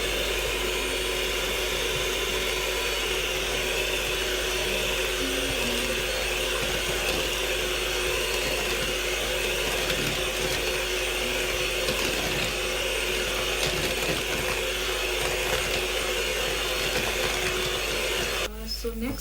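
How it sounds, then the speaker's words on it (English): An electric mixer whirs steadily through vanilla cake batter with flour and milk, a continuous close motor drone lasting the whole time with faint speech underneath. "The process again of mixing."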